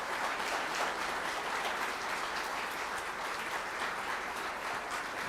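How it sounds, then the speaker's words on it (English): A school concert audience applauds the Best of Center woodwind quintets at a high school band spring concert: dense, steady clapping from many hands fills the whole stretch at an even level, with no voices over it. "So a round of applause for our Best of Center woodwind quintets"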